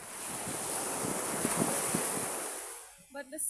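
Ocean waves breaking at a beach in Bacuag, a broad continuous surf roar with wind buffeting the microphone, fading out near the end as brief sounds follow.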